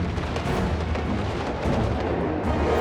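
Cannon artillery in a video game battle, heavy booming and rumbling fire layered into dense, continuous loud battle noise.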